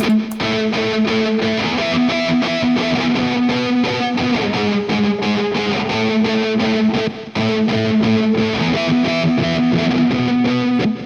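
A distorted pop punk guitar plays a repeating melody over a driving backing, loud and steady throughout, with no voices.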